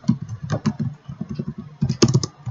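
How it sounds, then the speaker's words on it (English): Someone types details on a computer keyboard, with quick irregular clusters of close key clicks, a short pause in the middle, then a denser flurry of keystrokes. "we have to type in our details"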